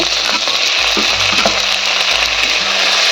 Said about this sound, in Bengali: টমেটোটাও ভালো করে ভাজা করে নেব।